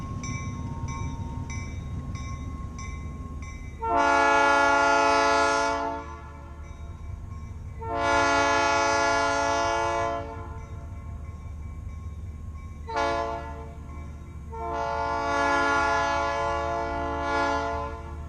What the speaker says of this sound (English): Locomotive number 606 is a General Motors diesel built in 1954.